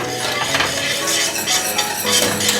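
A utensil stirs hot English mustard into a sauce in a pan, giving continuous scraping and soft clinking of metal against the pan, close and fairly steady with no talking.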